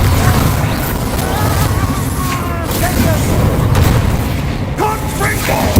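Loud, dense spell blasts from the Bombarda curse in Hogwarts Legacy roll on continuously in rumbling bursts, with combat noise filling the scene.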